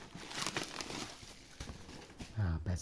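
Packaging crinkles and rustles in uneven bursts while a Meike 85mm f1.8 RF-mount camera lens is unboxed, and someone talks over the handling.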